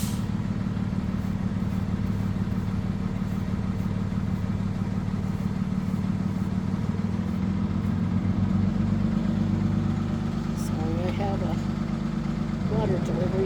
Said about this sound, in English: delivery truck here at the moment. Well, it's kind of noisy.